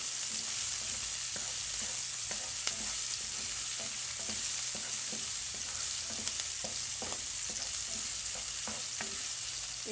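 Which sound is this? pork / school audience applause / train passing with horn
pork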